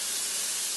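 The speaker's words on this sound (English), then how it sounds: "And the fifth step is frying this stuff up." A spicy Jamaican tofu mixture fries in hot oil, giving a brief, loud, close, dense sizzling hiss with no talk.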